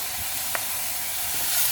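Chopped tomato hitting a hot pan of browned onions for misal, giving a steady hissing sizzle throughout, with one brief click near the start.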